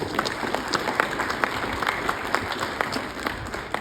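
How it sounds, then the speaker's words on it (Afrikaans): A church congregation claps together in sustained, lively applause, a dense even patter of many hands filling the room at close range. "Kom ons gee Jesus 'n hande klap."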